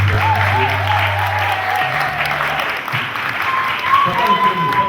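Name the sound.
congregation acclaiming at wedding blessing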